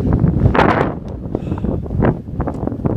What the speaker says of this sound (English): Extremely windy, to the point of being diabolical really.